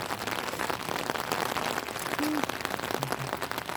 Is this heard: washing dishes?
no